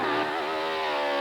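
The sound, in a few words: GSXR 1100 motorcycle revving up hill climb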